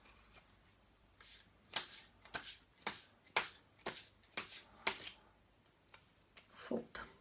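Tarot cards being shuffled by hand, a quiet run of about a dozen short riffling swishes and flicks in a loose rhythm, close and alone with no talking.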